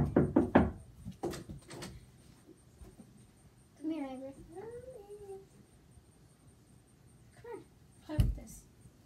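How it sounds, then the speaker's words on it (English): Knocking on a door comes as a quick cluster of sharp raps at the start, then a cat meows once. A single knock-like thump follows later, with faint voices nearby. "When I knock on the door,"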